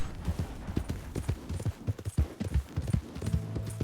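Horse hooves clip-clop in a steady, fairly close rhythm in Red Dead Redemption 2, with a low tonal hum entering near the end.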